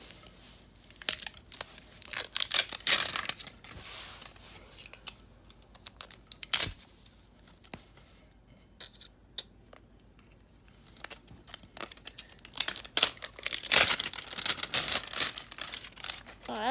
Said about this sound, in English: Let me just unwrap it.